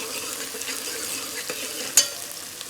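Loud, continuous sizzling of spices in hot oil, with light stirring and a sharp clink of a utensil against the pan.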